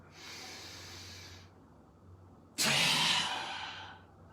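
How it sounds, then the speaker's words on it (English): A person takes a slow, deep breath: a long airy inhale fades into a brief pause, then a sudden, louder breathy exhale that tapers off, close and alone. "I'm going to take a deep breath."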